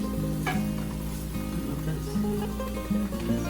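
A steady sizzle of green tomatoes frying in a pan, constant and close, with a low hum underneath.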